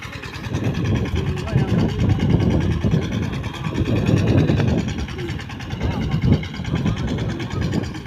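A tractor engine chugs steadily nearby with a low, throbbing rumble, while people talk over it.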